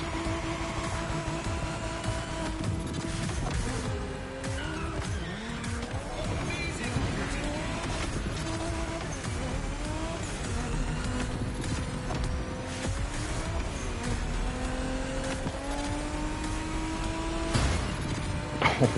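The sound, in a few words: Toyota Supra racing in video game The Crew Motorfest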